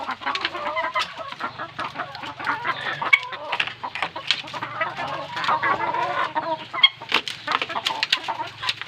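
Many layer hens clucking together in a backyard flock of about 150 Rhode Island-type birds, a dense, continuous chorus of overlapping clucks and squawks, close and fairly loud, with a low steady hum underneath.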